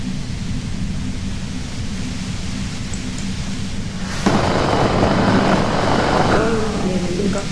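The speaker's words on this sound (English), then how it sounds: "If you've got something really important to say, you can do it through the white noise." Steady compressor white noise in the Disco Elysium video game, a broad even hiss that swells louder and brighter partway through and carries on without a break.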